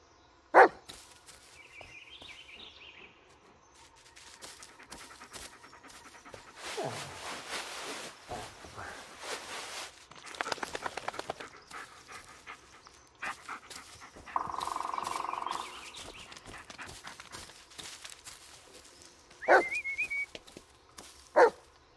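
Dog barking and whimpering in the horror video game Blair Witch, with sharp scattered barks, panting and soft whines spread over a dark ambient backdrop, plus a few other game sounds.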